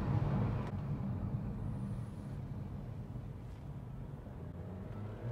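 Wind noise inside an MG Hector driven at high speed, around 130 km/h, a steady low roar and rush of air with road rumble that stays constant and fairly quiet throughout.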